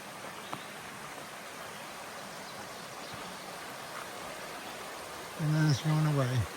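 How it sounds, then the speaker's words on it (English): A creek runs alongside a muddy trail in the rain, giving a steady broadband rushing wash throughout, with a person's voice briefly rising over the water near the end. "Love to hear the sound of the creek when I walk along the trail."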